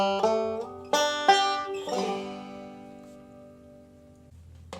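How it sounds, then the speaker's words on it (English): Banjo ending lick for I'll Fly Away: a few quick bright plucked notes and a short strum, then one final chord left ringing and fading out, close with no voices. "So the ending sounds like this."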